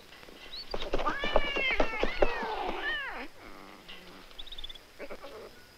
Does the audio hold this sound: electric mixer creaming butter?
no